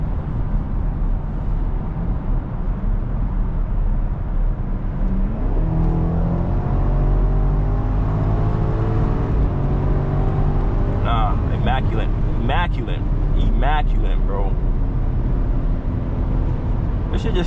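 A BMW X5M SUV running an XHP Stage 2 tune on a stock engine accelerates hard on a highway, its engine note climbing through rising sweeps with sharp shift breaks, heard from inside the cabin under steady road noise while people talk.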